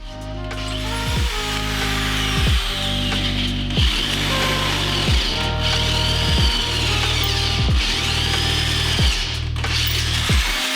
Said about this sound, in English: now all I gotta do is just drill in these holes